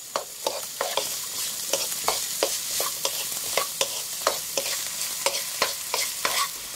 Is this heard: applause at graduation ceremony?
no